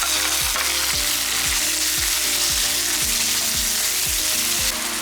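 Chopped tomatoes frying with ginger garlic paste in a pan for aloo matar masala: a loud, constant sizzle and hiss, with a regular series of low scraping knocks from stirring, close up and with no voices.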